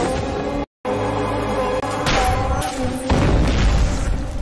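Grenade blast in an action film scene, a loud sustained boom and rumble after a brief cutout, swelling with debris-like roars in a dense, heavy soundtrack.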